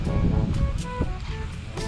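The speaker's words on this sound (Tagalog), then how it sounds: "Ayan, lakas ng hangin." Strong wind blows outdoors at the Mt. Samat National Shrine, a loud low rumbling buffet across the microphone with gusty swells throughout.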